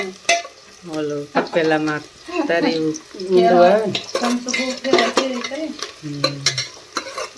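Onion frying and being stirred in a pan for a cluster bean curry with gram flour, with scraping stir clicks and a soft sizzle running beneath nearly continuous close talking.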